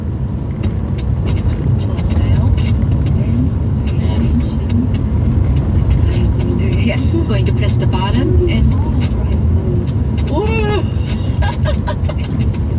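A car driving itself on a busy Tokyo motorway in afternoon commuter traffic merges onto the main road, with a loud steady engine and road roar throughout and people talking over it.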